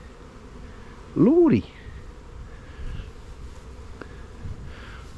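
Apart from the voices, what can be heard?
queen wasp flying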